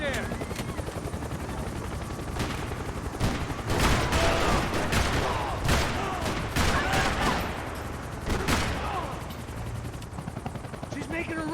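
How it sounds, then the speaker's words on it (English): Gunfire in Max Payne 3 comes as dense, sustained bursts and rattling volleys mixed with a droning engine roar, while characters shout over the din. "Now, Max, he's gonna shoot."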